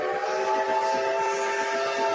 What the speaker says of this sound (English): That's just the whistle on this engine.